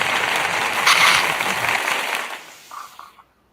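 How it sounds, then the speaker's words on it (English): Audience applause at an evening event for local Black authors, a steady wash of clapping that swells and then fades out, with a few voices near the end before silence. "But I am going to do the applause."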